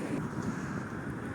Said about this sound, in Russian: Ух, ветер какой, а? Задувает сильно.